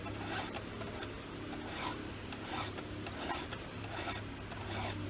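Steady rhythmic rasping of a hand file drawn across chainsaw teeth, repeated strokes close and clear with no talking.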